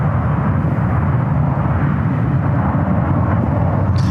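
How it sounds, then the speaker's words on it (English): A United Airlines Boeing 737-800 takes off from runway one right at San Francisco airport. Its broad jet roar is loud and constant, with no talk over it. "Taking off on one right, United Airlines flight 566 heading to Denver"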